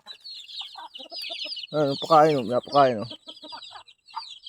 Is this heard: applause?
no